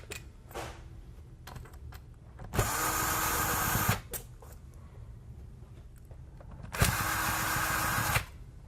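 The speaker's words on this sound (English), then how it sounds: "remove our 4 cover screws right here" A power screwdriver backs out the cover screws on an old chassis in two whirring bursts of about a second each, close and clear, with faint handling clicks between them and no talk.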